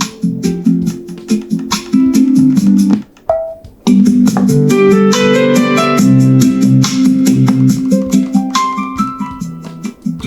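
Music plays loud and full through a SKIL Bluetooth work speaker connected to a phone, continuous apart from a short break near the middle, with no voice over it.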